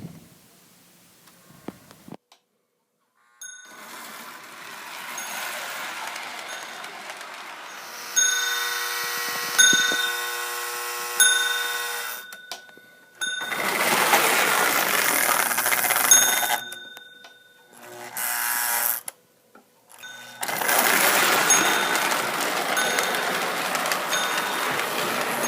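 Lionel 1656 postwar 0-4-0 switcher toy locomotive from about 1949 runs on track with a working bell, motor whir and rail rumble coming in stretches broken by short pauses, the bell ringing repeatedly over the running noise.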